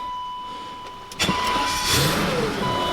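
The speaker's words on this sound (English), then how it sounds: "you just want to start the car and just let it run for a bit" An E38 BMW 750iL cranks and catches, a brief starter burst followed by the engine settling into a steady idle with a high whine, close by.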